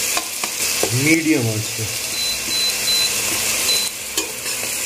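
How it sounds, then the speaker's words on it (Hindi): Onions with salt fry over medium heat in a pan, giving a steady close sizzle; someone speaks briefly over it, and a faint electronic beep sounds a few times. "थोड़ा इसको प्याज को भूनने देंगे हम"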